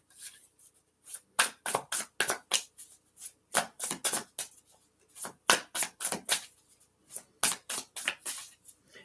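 A tarot card deck being shuffled by hand, crisp riffling bursts repeating in quick groups with short pauses between, close and fairly loud with no talking.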